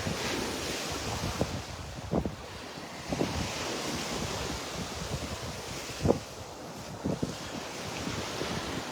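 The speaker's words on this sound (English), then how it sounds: "The high waves, the wind." High ocean waves roll and crash along a beach under strong gusting wind, a continuous roaring surf with wind buffeting the microphone and occasional louder thumps.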